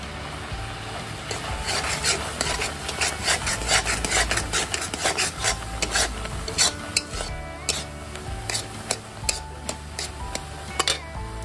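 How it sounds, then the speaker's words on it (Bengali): A spoon rubs and scrapes steadily through chhana (milk curd) mixed with milk powder in a pan, making close, dense rasping strokes with frequent small clicks and taps and no talking. "এখানে অল্প অল্প করে গুঁড়ো দুধ দিয়ে দেব আর অল্প অল্প করে নাড়া দিয়ে নেব।"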